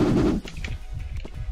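Gunfire in a Turkish-played online shooter game, a loud burst at the start followed by scattered fainter shots and impacts.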